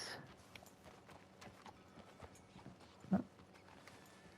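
A horse in the video game Red Dead Online walks with faint, evenly spaced clip-clop hoofbeats, quiet and close, with one louder thud near the end.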